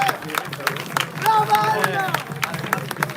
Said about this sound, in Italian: lascio che sia il vostro applauso a sovrastare la musica